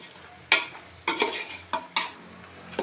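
Mutton pieces coated in masala frying in a pan, stirred with a spoon: several sharp scrapes and clinks of the spoon against the pan over a steady low sizzle, close and fairly loud, no talking.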